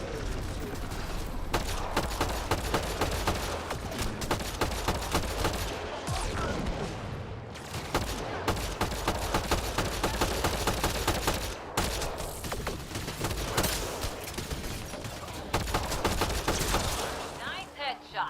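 Dense, continuous gunfire and explosive combat sounds from the video game Mass Effect Andromeda, loud and nearly unbroken with rapid bursts, with voices speaking over the action.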